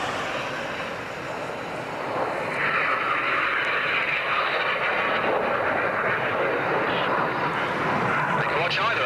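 Display jets fly a synchro maneuver at the 1990 RAF Manston Airshow, a loud continuous engine roar that swells and holds steady for the whole span, with no talk.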